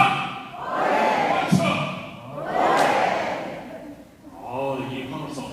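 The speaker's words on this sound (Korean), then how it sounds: "이 환호성 스페인으로 온 것 같지 않습니까?" An audience at a Catholic reading concert in a parish hall shouts a cheer on cue in loud swelling waves, three bursts of massed voices rising and fading, with a thud in between.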